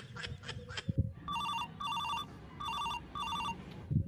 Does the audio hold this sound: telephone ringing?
yes